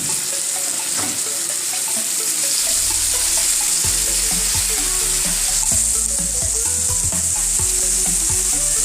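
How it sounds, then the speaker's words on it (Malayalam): Sugar-coated pineapple pieces sizzle steadily in a hot pan, a constant loud frying hiss with occasional stirring clatter and low bumps. "2 മിനിറ്റ് നമ്മൾ ഫ്രൈ ചെയ്തെടുക്കാം."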